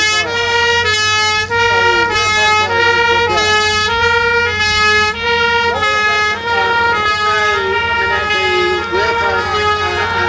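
A Green Goddess fire engine sounds its siren during a wartime demonstration in a park, a loud, steady two-tone wail alternating evenly and continuously at close range.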